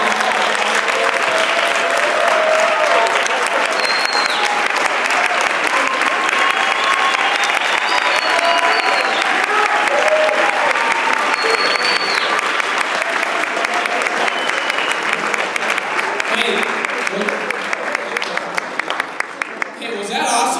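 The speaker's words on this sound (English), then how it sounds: "can we give them a huge round of applause?" Loud, sustained audience applause fills the room at a live gathering, dense clapping running without a break, with scattered whoops and cheers on top, before thinning out near the end.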